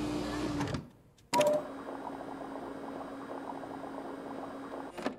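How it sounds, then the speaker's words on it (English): Liquid poured into a medium vial in Resident Evil 2 Remake, a brief burst followed by a steady bubbling, gurgling flow that runs for several seconds at moderate loudness. "Pour the contents into the medium vial"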